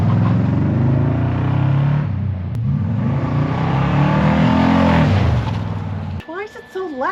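A car with a custom exhaust revs hard up close, its loud throaty roar rising and falling across several long pulls before cutting off into a brief, fluttering idle.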